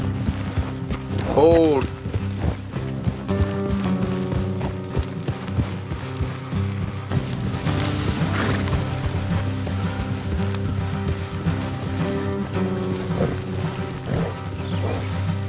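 Hooves thud steadily as horses ride along a road in Red Dead Redemption 2, under constant game music and ambience with brief spoken words and a sharp crash early on.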